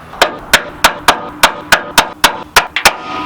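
A hand hammer strikes metal in about ten sharp, evenly spaced blows during C-notch and suspension work on a C-10 truck, loud and close, with a quick double hit near the end.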